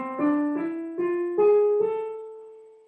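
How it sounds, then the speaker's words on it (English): A short run of five sustained, ringing notes of a harmonic minor scale climbing upward one step at a time, played alone and fairly close with no voices. "Then you have the harmonic minor, which sounds like this."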